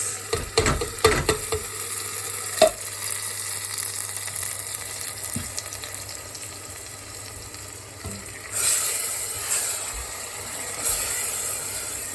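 A pan of cherry tomatoes and garlic sizzles and fries steadily, with clattering stirring and utensil knocks early on and a louder surge of frying near the end.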